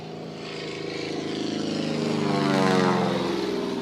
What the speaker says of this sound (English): Listen to this engine as he comes by this river strip.